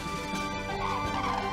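Common cranes calling in open heath and peatland, a dense, continuous chorus of trumpeting bird calls at moderate distance with no voices.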